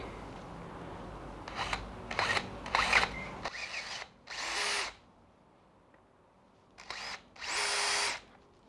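A power drill boring a hole into a heavy wooden workbench leg, several short whirring bursts followed by two longer steady runs separated by quiet pauses, close and fairly loud.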